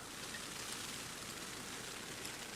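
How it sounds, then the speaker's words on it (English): Rain falls steadily outside a cave at a camping spot, a faint, even hiss with no other sounds. "It is raining."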